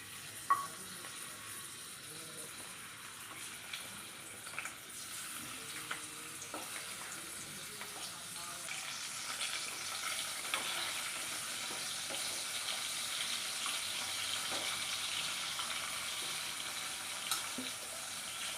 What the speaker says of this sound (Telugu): ఆయిల్ కొంచెం వేడైన తర్వాత శుభ్రంగా కడిగి పక్కన పెట్టుకున్న ఈ ఎండు చేప ముక్కలను అయితే వేసేసుకొని ఫ్రై చేసుకోవాలి